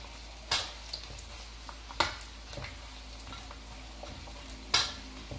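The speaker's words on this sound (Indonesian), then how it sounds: "Nah, ini minyaknya udah mulai panas. Kita goreng dulu ikan bilisnya." Anchovies frying in hot oil over low heat: a soft, steady sizzle with a few sharp scrapes and clinks of a spatula stirring in the pan, spaced irregularly, close and fairly quiet.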